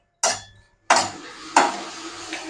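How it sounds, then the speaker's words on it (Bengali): Dry chillies and whole spices are tossed into a hot, dry kadai, giving three sharp clattering hits, each followed by a short rattling scrape and a dry rustle. "প্রথমে আমি লঙ্কাটা দিয়ে একটু টেলে নেব।"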